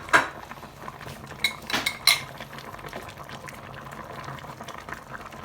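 Chinese cabbage stalks, the firm part, dropped into a pot of boiling salmon fish head sinigang, with a few clinking utensil and pot knocks near the start over a steady bubbling simmer.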